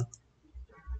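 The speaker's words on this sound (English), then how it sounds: "then click on apply" A couple of soft, dull mouse clicks, faint and close, heard alone in a quiet room.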